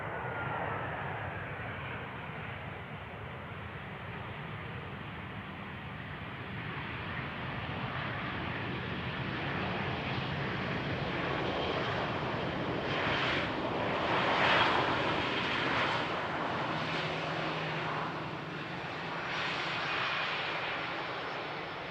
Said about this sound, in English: the Aer Lingus Airbus vacating the runway over here where the first exit is